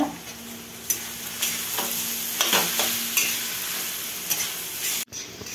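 Grated mango for jam sizzles in a hot pan while a spoon stirs it, with sharp periodic scraping strokes over a constant frying hiss, close up.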